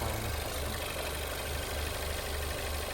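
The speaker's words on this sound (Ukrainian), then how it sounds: "Ось так от працює двигун після чистки" A Ford Edge 2.0 EcoBoost engine idles steadily at close range after fuel injector cleaning, a continuous low rumble with an even, slightly throbbing rhythm and no voices.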